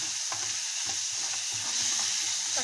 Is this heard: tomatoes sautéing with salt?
yes